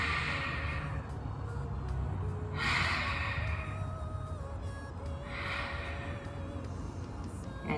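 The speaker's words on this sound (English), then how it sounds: "Exhale." Slow, audible exhalations during a kneeling arm and leg extension exercise, several long airy breaths rising and fading over a steady background hum, no speech.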